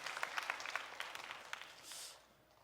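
Congregation applause in a Korean church service honoring a family's offering, a dense patter of clapping that fades out toward the end with no talk over it.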